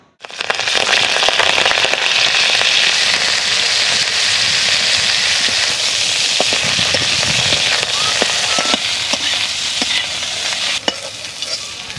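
Cauliflower florets frying in hot oil in a wok, a loud steady sizzle with crackling and stirring scrapes running continuously throughout.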